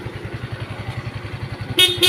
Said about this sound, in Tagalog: Napayos natin yung ating busina.